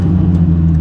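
Steady low engine rumble of a Renault R5 Turbo 2 lugging at low revs in second gear, loud and close, with no talk.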